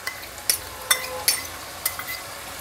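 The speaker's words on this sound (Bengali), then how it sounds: "এইবার অ্যাড করব এই যে এখানে পেঁয়াজ রসুনের একটু পেস্ট" Onion garlic paste goes into a frying pan, bringing a soft sizzle with several sharp clinks and scrapes of a spoon against the pan, close and fairly quiet, with no talking.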